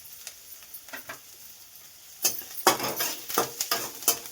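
Carrot, cabbage and capsicum frying in a pan, with a soft sizzle and a run of clattering spatula stirs and scrapes against the pan that grow louder and busier partway through.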